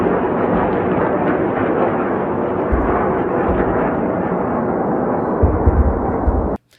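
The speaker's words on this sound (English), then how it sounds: "A missile comes, the Iron Dome intercepts," Iron Dome interceptor destroying an incoming missile in the sky: a loud, continuous roaring rumble of blast and rushing noise with heavier low booms, holding steady for about six seconds before cutting off abruptly.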